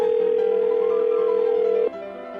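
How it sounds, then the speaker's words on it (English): A steady telephone dial tone holds loud and even for about two seconds during a call placed on a radio dating-advice show, then cuts off abruptly, leaving a faint line hum. "we're going to get David on the phone"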